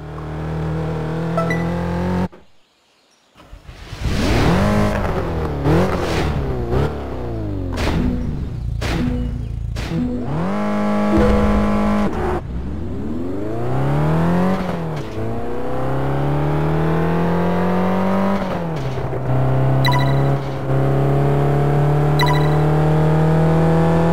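A car in Test Drive Unlimited 2 drives through a curve and brakes to stop in a marked zone, its engine loud and close, revving up and down through repeated gear shifts with a brief drop to near silence.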